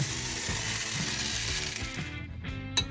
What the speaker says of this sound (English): And just whisk this up so you have no clumps of the au jus packet left